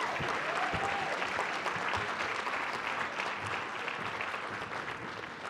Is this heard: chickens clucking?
no